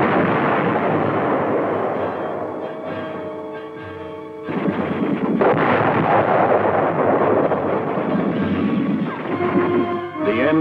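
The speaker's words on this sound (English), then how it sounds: "the tanks meet heavy fire from enemy tanks and anti-tank guns." Heavy battlefield fire from tanks and anti-tank guns during an armored attack with infantry, a sustained loud roar of blasts and rumbling that swells midway and continues to the end.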